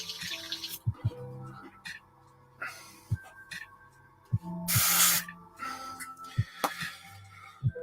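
An airbrush spraying during cleaning, short hissing bursts of air, one long loud blast near the middle, mixed with scattered clicks and knocks from handling nearby.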